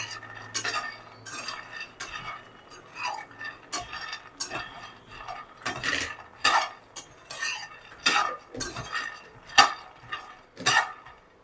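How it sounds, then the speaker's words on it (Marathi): Makhana roasting in a pan with almonds, cashews and raisins, stirred with a utensil that scrapes and clinks against the pan in repeated rhythmic strokes, close and fairly loud, with no talking. "आता हे सुद्धा आपण दोन मिनटं छान परतून घेऊ"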